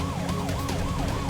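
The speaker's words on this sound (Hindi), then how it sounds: "पुलिस की गाड़ी?" A police car siren wailing in a repeating rising-and-falling pattern, five even cycles over the short span, fairly loud and close with no talk over it.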